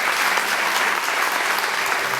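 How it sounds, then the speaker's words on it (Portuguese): A church congregation claps for God in sustained, dense applause, a loud even wash of many hands with no break. "Vamos aplaudir mais uma vez o Senhor"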